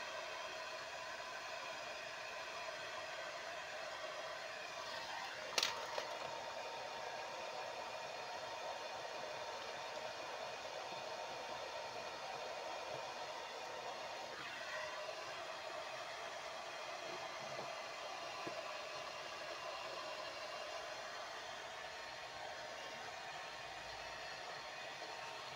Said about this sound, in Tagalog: i-blower ko lang para mabatak at lumambot ko ng ating